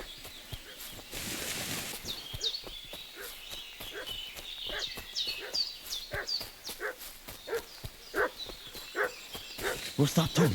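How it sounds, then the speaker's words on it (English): Dog barking in Kingdom Come: Deliverance 2, a run of sharp, repeated barks over footsteps and horse hooves in an outdoor medieval village, with a voice talking at times. "What's that dog making such a fuss about?"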